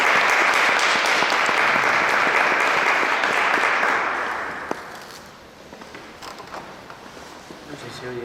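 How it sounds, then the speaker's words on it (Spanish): Audience applause at a church brotherhood conference, dense clapping from a crowd that holds steady for about four seconds and then dies away to quiet room noise with faint stray sounds. "Un aplauso."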